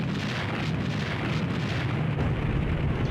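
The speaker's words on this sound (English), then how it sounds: "Alright, now my artillery can engage." Continuous rumbling artillery fire in a WWII strategy game battle from the opening of Operation Barbarossa, dense overlapping booms forming a steady loud roar throughout with no speech.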